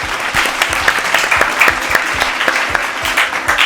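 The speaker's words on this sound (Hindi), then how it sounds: "जोरदार तालियां ईवा के लिए बजाएं" A live studio audience claps loudly and steadily for a young girl on a children's show, a dense, sustained burst of applause with no talking over it.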